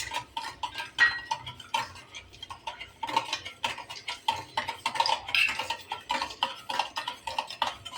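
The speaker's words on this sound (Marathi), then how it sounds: "हलवूया आणि छानपैकी साखर विरघळून घेऊया" A spoon clinking and scraping against a glass while stirring sugar into a chilled watermelon milkshake, with irregular quick metallic taps and swirls, fairly close and moderately quiet, continuing steadily throughout.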